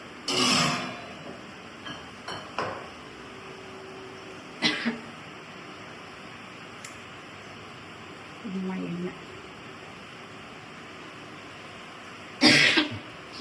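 Several separate coughs break a quiet room, sharp harsh bursts spaced seconds apart, with faint murmuring between them.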